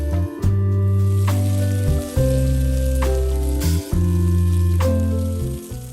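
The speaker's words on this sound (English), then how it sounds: "Place them gently, top side up, onto the iron skillet in an orderly manner." Stuffed okra (bharwa bhindi) fries in an iron skillet, a soft constant sizzle lying beneath louder, steady tonal background music.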